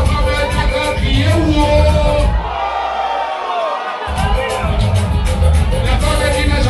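Large crowd at a concert tribute event shouting and cheering together on cue, a loud dense roar that drops briefly mid-clip before swelling again.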